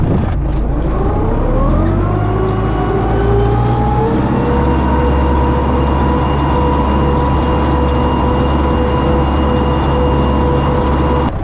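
An MTZ tractor running a garden cultivator, its engine a steady loud drone with a rising tone as it pulls away, then holding an even pitch close by for the whole stretch, with no talking.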